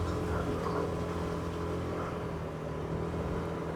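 A motorcycle engine drones steadily as the bike climbs a mossy trail toward a campsite among rice terraces, a continuous mid-level rumble without talk.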